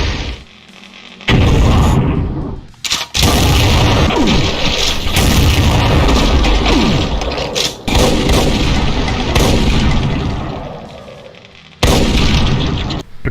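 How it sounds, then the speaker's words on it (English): Hades spheres in a Doom mod video game blowing up near the player, a loud continuous barrage of booming blasts and heavy bursts, with brief near-silent gaps between thunderous stretches. "summon a couple of Hades spheres which float around and intend to suicide explode near the player"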